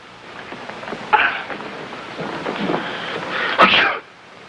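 A single sharp sneeze bursts out near the end after a brief earlier catch, over a quiet room with low background murmur.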